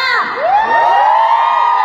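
A crowd shouting and cheering with sustained, tonal whoops and yells that rise and hold steady throughout, loud and close, with no separate speech.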